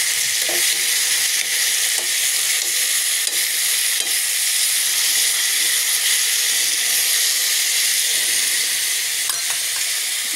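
Garlic, onion and tomato sauté loudly in hot oil for ampalaya with egg, a strong, steady sizzling hiss close up with faint stirring scrapes and no voices.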